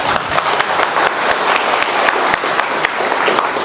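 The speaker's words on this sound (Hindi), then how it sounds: "मेरे को लगता है तालियां तो बजनी चाहिए ना" Loud, steady applause from an audience at a product demonstration of sanitary napkins, many hands clapping densely and continuously without a break.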